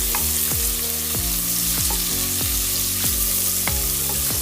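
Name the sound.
garlic paste sautéing in ghee or oil in a kadai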